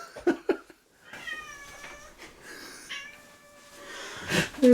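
A person imitating a cat's meow with a voice, giving a drawn-out wavering meow between short snorts and breathy noises, close to the microphone.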